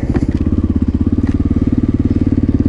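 A motorcycle engine runs steadily on a ride toward a river, a loud, close, even throbbing pulse with a few faint ticks over it and no talk.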